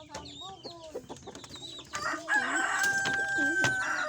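Chickens cluck in short bursts, then a rooster crows loudly and close, over busy background bird calls.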